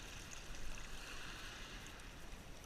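Water running over a gold sluice mat on a beach at night, a faint, steady trickling wash without talk.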